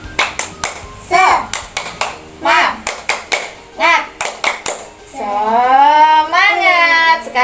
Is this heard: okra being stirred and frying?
no